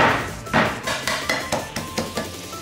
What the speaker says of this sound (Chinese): 拍点葱姜